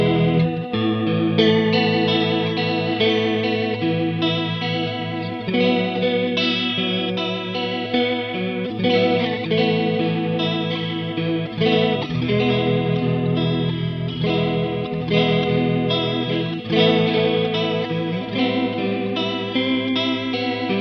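Guitar played through a Free The Tone Tri Avatar TA-2H chorus pedal, a steady stream of shimmering, modulated chords and notes with a slightly driven edge, loud and continuous with no talking.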